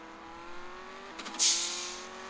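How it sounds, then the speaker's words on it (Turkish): A Lamborghini Aventador engine in an Android driving simulator game holds a steady mid-pitched drone, then a brief rev and a bright hissing whoosh or skid-like burst that fades out. "Bu araba çok hızlı."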